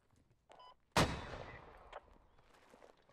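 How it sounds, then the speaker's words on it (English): A single loud U.S. mortar impact in the military video game Operation: Rook, a sharp nearby boom with a rumbling decay, preceded and followed by fainter thuds. "U.S. mortars"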